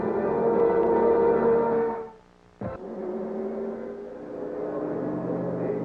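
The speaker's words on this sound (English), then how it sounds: "Back at the Indianapolis Motor Speedway with the sound of the racing engine for the first time" Indy car racing engines at Indianapolis Motor Speedway during 1992 Indy 500 time trials on pole day, heard as a steady, loud droning roar that dips briefly and then resumes at a slightly lower level.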